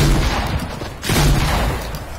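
Rocket explosions in the Fortnite video game: a loud burst of booming blasts, a brief dip, then another heavy round of explosive rumble that fades slightly at the end.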